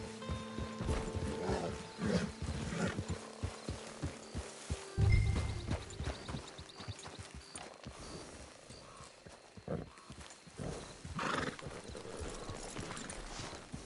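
Horse hooves clip-clop in the Red Dead Redemption 2 video game, a run of close, irregular hoof thuds with a brief snort or whinny midway, set over an outdoor ambience.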